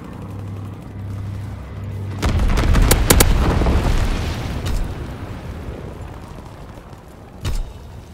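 Incendiary bombs from a low-altitude firebombing run in Call of Duty: WWII burst into a loud, rumbling explosion that swells and slowly fades, with a later sharp blast near the end and no talk.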